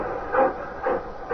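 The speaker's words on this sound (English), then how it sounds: "The train started." A train pulling away as a radio drama sound effect, heard as three rhythmic chuffing bursts that grow with a steady hiss between them, close and moderately loud.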